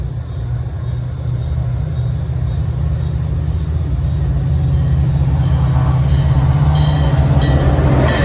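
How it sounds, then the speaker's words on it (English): Train rolling past at the Des Plaines railroad crossing diamond, a steady loud low rumble with faint wheel clatter building toward the end, no talking. "I hear distant choo-choo noises."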